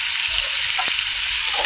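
Raw banana and potato pieces fry with turmeric in a hot pan, giving a steady, close sizzling hiss throughout, with a brief stir-like scrape partway through and no talking.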